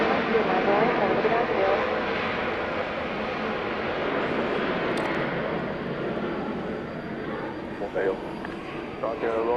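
Broadband roar of a British Airways Boeing 777 arriving from London Heathrow at Atlanta after dark, steady and loud throughout, with voices talking over it.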